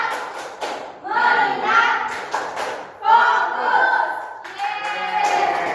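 Primary school children in a classroom chant together in unison, punctuated by rhythmic group hand claps during a focus routine, loud and close.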